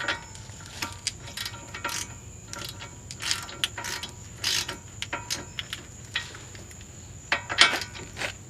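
A ratchet wrench tightens a 19mm tie rod nut on a 2004 Nissan Maxima during an inner and outer tie rod replacement. It gives close, irregular bursts of clicking with short pauses between strokes.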